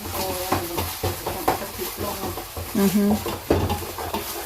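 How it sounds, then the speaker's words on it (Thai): Ingredients for a coconut milk curry sauce for rice noodles being stir-fried in a pan, with close, busy scraping and clanking of a utensil over a soft sizzle and occasional murmured voices. "อันนี้ผัดกับอย่างเนี่ย เอาผัดให้มันหอมเฉยๆจ้า"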